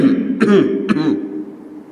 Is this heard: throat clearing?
yes